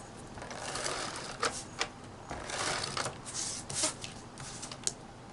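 An ATG tape gun runs adhesive onto cut card pieces in a crafting session, giving short ratcheting, clattering bursts at close range, quiet overall with small sharp clicks between stretches of rustling.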